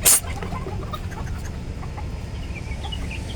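A chicken gives a quick, sharp squawk at the start, followed by soft scattered clucks and scratching noises over a quiet background.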